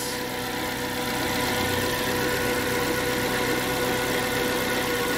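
A Suzuki APV engine idles steadily at close range, a continuous mid-pitched rumble with a slight vibrating hum and no talk, running after a crank-no-start fault.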